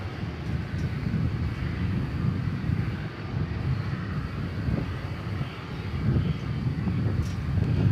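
A 19-year-old airliner arriving at DFW airport at night produces a steady, broad jet roar with low rumble, held at a fairly loud distant level with some wind buffeting for the whole stretch.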